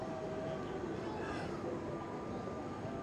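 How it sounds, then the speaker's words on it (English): A Blackpool tram arrives along the seafront promenade, a steady low rumble with a faint high whine throughout, fairly distant and continuous. "And we've also got the Western train tram coming in as well."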